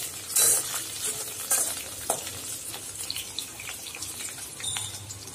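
Batter-coated prawns for prawns 65 fry in hot oil with a crackling sizzle, punctuated by a few loud stirring and scraping bursts near the start and steady bubbling throughout.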